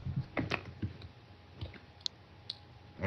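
Typing on a computer keyboard during a Minecraft public-server session: a short run of light, scattered key clicks, close and fairly quiet, with no talk.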